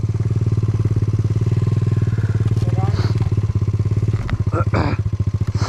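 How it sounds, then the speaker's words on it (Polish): Motorcycle idling at close range with a fast, steady thumping beat, while several sharp pops and crackles from the exhaust break through near the end and people talk over it. "Bo tak zaczął strzelać z wydechu."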